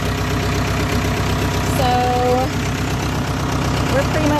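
A tractor fitted with a bush hog idles steadily up close, a low constant engine rumble running throughout while someone speaks over it.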